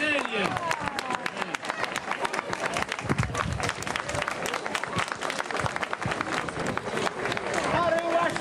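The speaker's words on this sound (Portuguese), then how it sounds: "Uma salva de palmas para António Oliveira." A crowd claps for a participant at a São João marches festival in Alfeizerão, Portugal, in 2012: sharp, crackling applause from many people runs continuously, with voices and crowd chatter mixed in.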